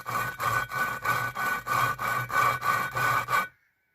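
An engine valve on a VW 2.0 16v 9A cylinder head is lapped against its seat, making a coarse, gritty grinding that repeats in a steady back-and-forth rhythm about seven times and then stops abruptly.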